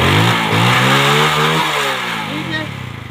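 Motorcycle engine revving up and down close by, a loud buzzing roar with rising and falling pitch over a few seconds and a brief voice mixed in.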